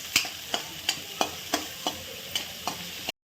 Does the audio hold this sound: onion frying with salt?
yes